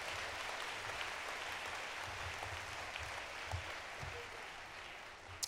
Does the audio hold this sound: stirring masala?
no